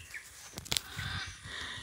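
Macaws in the wild give a brief burst of harsh squawks, faint and distant, over quiet background noise.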